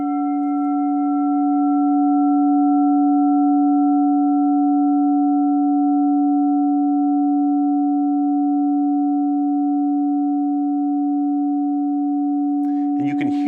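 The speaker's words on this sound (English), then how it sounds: "you can hear through the microphone the sustain of that bowl, where the diminishment is very little over time" Hollow handle clear quartz crystal singing bowl ringing a steady, pure sustained tone with faint overtones, barely fading across the whole span, close and alone until a brief clatter at the end.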